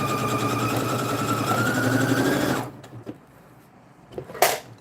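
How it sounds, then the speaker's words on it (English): A sewing machine runs steadily, stitching fabric for a bandana bag, a close continuous whir that stops abruptly partway through, followed by a few faint handling clicks and a brief sharp noise. "this is the funnest part about making the bag, is just sewing it. I love sewing."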